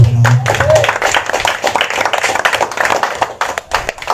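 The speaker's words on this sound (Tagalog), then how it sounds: "Wala ba kayong palakpak sa Panginoon?" A church congregation bursts into applause during a sermon, a dense crowd of hand claps rising quickly then thinning out, fairly close, with a voice briefly heard at the start.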